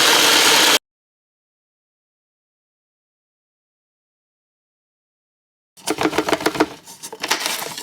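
Blender crushing digestive biscuits for a cheesecake base: a brief loud burst, a long silence, then about two seconds of rough, rattling motor grinding in uneven pulses.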